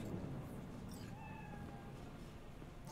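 A cat meows inside the Cyberpunk video game, a few short tonal calls heard at moderate level over a steady, dense background of ambient game sound.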